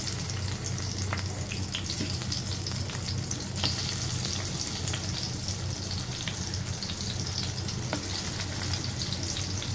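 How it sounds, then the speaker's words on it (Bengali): Marinated round eggplant slices fry in hot oil with a loud, dense, unbroken sizzle and scattered crackling pops, heard close up with no talking. "এখন ম্যারিনেট করা বেগুন আমরা তেলের মধ্যে দিয়ে দিব।"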